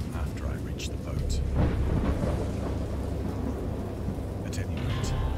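A thunderstorm with deep, sustained rumbling thunder and steady rain, loud and close, one big swell of thunder rolling through the middle over constant rain hiss.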